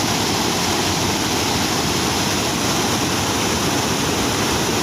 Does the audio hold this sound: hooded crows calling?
no